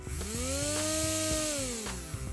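Small battery-powered electric motor on a Lego mower build whirring, a steady whine that climbs in pitch, holds, then slides down over about two seconds.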